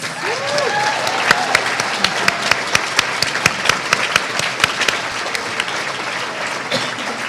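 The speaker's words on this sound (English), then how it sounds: "Can we have a round of applause for all of our award recipients?" An audience at a peace builder awards ceremony gives the award recipients a round of applause, a sustained dense clapping with sharp individual claps standing out near the microphone, continuing loudly to the end.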